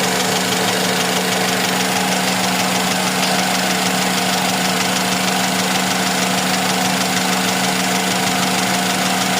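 A Mitsubishi Lancer 4G92 carbureted petrol engine with a fuel flooding problem runs steadily nearby, a loud continuous idle hum with an even mechanical drone and no speech over it.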